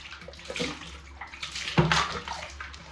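Running water splashes in a home kitchen sink while plastic kitchen containers are washed, with irregular gushes and light knocks of the containers under the stream.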